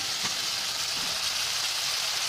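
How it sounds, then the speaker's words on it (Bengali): Prawns frying in oil in a kadai, a continuous even sizzle, close and moderately loud, with no voices over it. "হ্যাঁ, চিংড়ি মাছটা ভাজা হচ্ছে কড়াইতে।"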